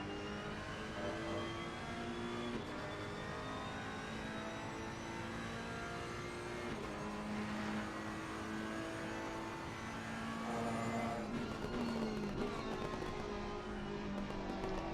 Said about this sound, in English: You hear the crackle of the exhaust